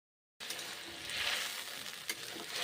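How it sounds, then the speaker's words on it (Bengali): Ground spices, including ginger paste, hitting hot oil in a pan for a Bengali broccoli dish; after a brief silence a quiet, continuous hiss of frying rises and holds, with no voices. "এই যে মশলা দিলাম গরম তেলে"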